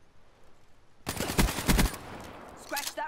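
Gunfire in the video game Call of Duty: Black Ops III: after a quiet start, a loud close burst of rapid automatic shots lasts under a second, then trails off into quieter game sounds.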